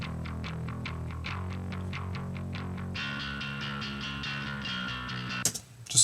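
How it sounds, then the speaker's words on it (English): A punk-rock bass guitar with added SansAmp distortion plays a driving line of gritty, buzzy notes in a steady rhythm, close and loud, cut off by a brief noise near the end. "we're adding a little bit more distortion with the Sans amp."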